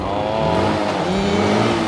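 A close motorcycle engine revs up in rising surges as gears shift up through sixth and back down, pitch climbing and dropping in steps, loud throughout.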